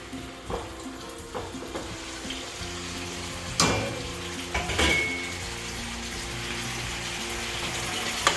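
Mango pieces for a Trinidadian mango anchar dropped into a cooking pot, a few soft thuds and clatters spread over a low sizzling background, close by and with no talking.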